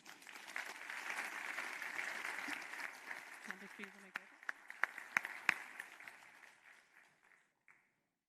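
An audience at a 2021 ventures showcase applauds its panellists, a dense round of clapping that swells, then thins into scattered individual claps and fades out near the end, with a faint voice briefly underneath.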